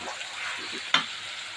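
Young chicken and potatoes are stir-fried together in a pan with tomato, a soft sizzle with a sharp scrape or stir sound cutting in once partway through.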